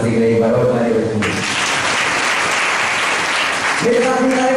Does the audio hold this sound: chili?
no